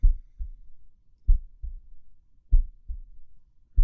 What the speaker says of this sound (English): The fucking heartbeat sound is unnerving